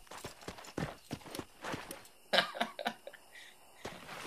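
Horse hooves clip-clop in the Red Dead Redemption video game, a quick uneven run of close, moderately loud hoof strikes with brief gaps, heard alone with no talking.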